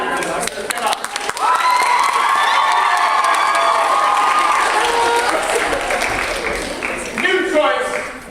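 Crowd of students at a freshman lock-in event breaks into loud applause mixed with whooping, high-pitched cheers, swelling after a brief start and staying strong before fading, with voices shouting over it.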